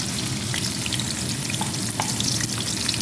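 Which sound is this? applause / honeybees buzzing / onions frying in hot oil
onions frying in hot oil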